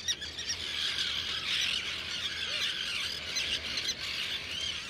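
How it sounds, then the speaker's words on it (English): Thousands of terns scream nonstop at a crowded seabird breeding colony, a dense, steady wall of harsh squawks and squeals from many birds near and far. "The camp's placed amidst thousands of screaming terns"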